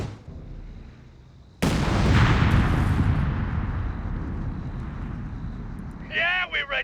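Heavy artillery and gunfire in the WWII strategy game Company of Heroes 3, Italian campaign: a sudden loud barrage erupts after a quieter start, sustained rumbling booms and shots, with voices calling out under the din near the end.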